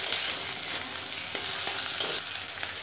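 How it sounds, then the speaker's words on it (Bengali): Chopped tomato and onion sizzle loudly in a frying pan, a continuous hiss broken by several sharp scraping stirs, heard alone and close. "টমেটোটাকে দিয়েও 1 মিনিটের মতো একটু ভাজা ভাজা করে নেব"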